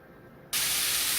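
Ground beef hitting a hot pan for a Mexican pizza bursts into a loud, steady broadband sizzle that starts abruptly and holds without pause.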